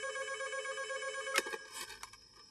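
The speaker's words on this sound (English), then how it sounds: "Arun, there's a phone for you" A telephone bell rings at a hostel reception desk, a bright sustained ring that cuts off, followed by a couple of short clicks as it is answered.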